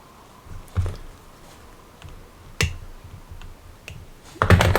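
Hobby clippers snipping plastic Warhammer 40,000 Space Marine Terminator parts: a few sharp, close clicks spaced out over a quiet room, ending in a louder cluster of snips.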